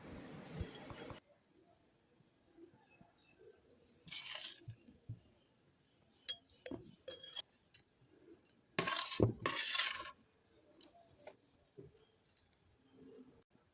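Mango pieces dropped into an oiled glass jar in a home kitchen, giving scattered clinks, taps and soft knocks in short bursts with quiet pauses between, close and fairly faint.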